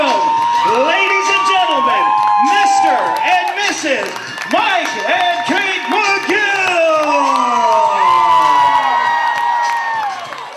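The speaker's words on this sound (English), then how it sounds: "give a huge round of applause to our brand new bride and groom" A wedding crowd cheers and claps loudly for the bride and groom, with whoops and shouts rising over sustained applause and music-like tones running underneath.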